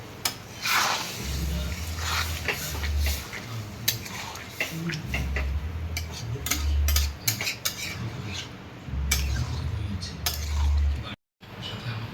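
Boiled potatoes and peas being stirred into a ghugni cooked with goat fat, with steady metal spoon scrapes and clinks against the pan and a low background hum, close by.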